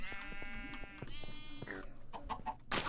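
Sheep in Minecraft bleat in a quick run of calls, with a few short clicky game sounds between them and a brief burst of noise at the end, all fairly faint and with no speech.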